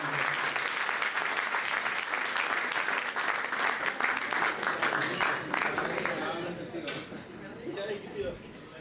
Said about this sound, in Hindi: अपनी ज़ोरदार तालियों के साथ